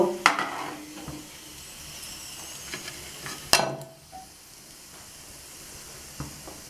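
Sabudana papad fry in hot oil with a soft continuous sizzle, punctuated by a few sharp clatters and bursts of louder crackling as pieces go in and are turned.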